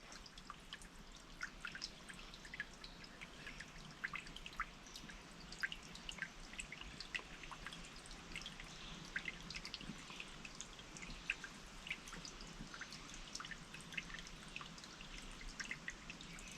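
Faint, continuous trickling water with small irregular drips and splashes, steady throughout and heard from a short distance in an otherwise quiet outdoor setting.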